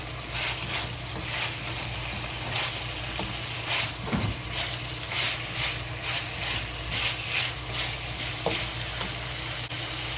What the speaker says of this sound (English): Just slowly fry until the ginger releases good smell.